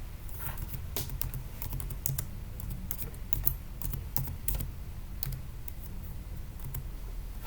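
Fingers tap out a name on a computer keyboard in a quick, uneven run of close, crisp keystrokes, with short pauses between bursts.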